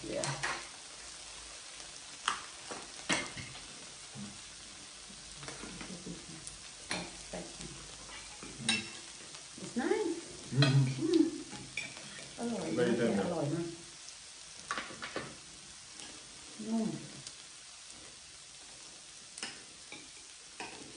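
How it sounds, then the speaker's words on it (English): Thai fried rice being stir-fried in a pan at a home Christmas dinner gives a soft sizzle with scattered scraping and clinking of the utensil, and voices talk at intervals over it. "If you want I gonna stir fry Thai rice"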